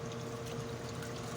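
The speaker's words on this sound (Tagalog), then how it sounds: "Tapos lagyan natin ng tubig." Water is poured over sliced ampalaya (bitter gourd) in a bowl, a steady close splashing pour.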